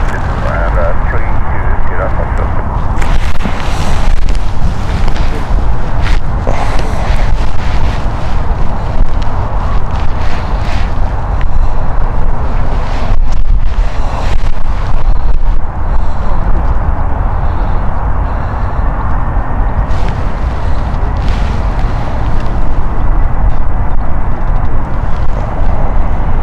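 Malta Air passenger jet taking off from runway 22 at Stansted Airport, a loud, sustained engine roar and rumble lasting throughout, with people talking over it.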